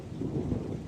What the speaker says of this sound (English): But no, it's a windy, stormy area.